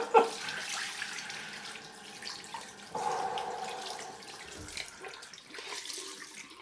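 Cold water runs from a tap in a steady, close splashing stream, shifting in tone partway through as the flow changes, with no talking.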